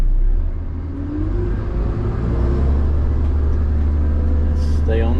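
A dump truck with a faulty parking brake reverses down a driveway, its engine rumbling and revving steadily up close under a voice, and a brief whining tone comes near the end.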